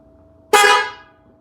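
A MotoHorn dual-track horn fitted to a Harley motorcycle sounds one loud, sustained honk of about half a second that then fades, bright and brassy, close up against a quiet background.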